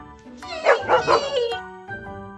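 A puppy whimpers and yelps in a cluster of high, wavering cries and short barks, close and fairly loud, followed by a softer whine.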